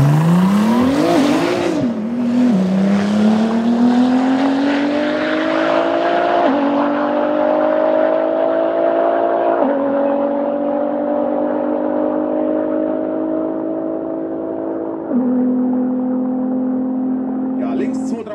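Race car at roughly 231 km/h at the Race 1000 drag event in Neuhardenberg, 2023, a loud sustained engine drone rising in pitch with several gear-shift steps, prominent throughout under a commentator's voice.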